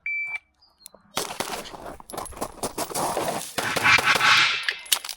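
A USPSA pistol practice run begins with a shot timer's start beep, followed by a rapid string of close, sharp gunshots in quick succession, echoing on a range.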